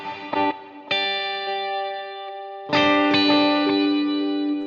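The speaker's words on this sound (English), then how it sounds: "that reverb is going to reverberate off of the repeats on the delay" Ambient electric guitar through a delay feeding into reverb: a few plucked notes and chords ring out, each onset echoing in repeats that blur into a sustained, shimmering wash before a fresh strum swells louder.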